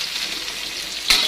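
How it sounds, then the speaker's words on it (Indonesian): Eggplant fries in hot oil with a dense, steady sizzle, ending in a brief louder clatter as the pieces are stirred. "ini terongnya kita goreng cukup setengah matang aja"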